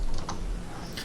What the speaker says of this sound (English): the typing is loud